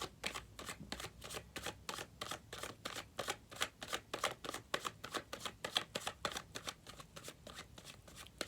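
Tarot cards being shuffled by hand, a steady run of crisp riffling flutters repeating at a quick, even rhythm, close and fairly quiet with no talking.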